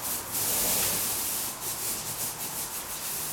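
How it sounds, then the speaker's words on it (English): A paint roller on an extension pole rolls along drywall into the corners of a wall, giving a steady, close, soft rubbing and scraping swish that continues throughout with slight surges. "what I like to do is go into the corners fairly close, as you'll see. Sometimes even scraping it."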